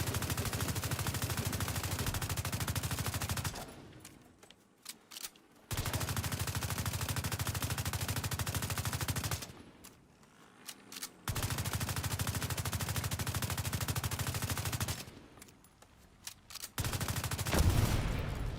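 Heavy sustained automatic gunfire in The Division 2, loud bursts lasting several seconds each, separated by short lulls, alone with no talk.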